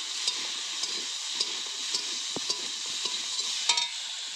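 Chopped vegetables seasoned with salt and turmeric fry in a pan for a Bengali fish dish, a continuous close sizzle broken by regular scraping taps of a spatula stirring, with no talking.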